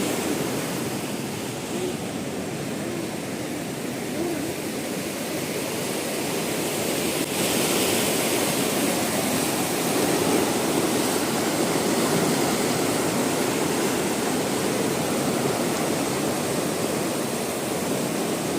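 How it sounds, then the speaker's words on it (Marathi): Fast-flowing floodwater of the Kaldhondi river, swollen and spilling into nearby farm fields, gives a steady, loud broadband roar and rush throughout, growing slightly fuller midway. "आता कालधोंडीचं बघा खूप प्रचंड वेग आहे या पाण्याला"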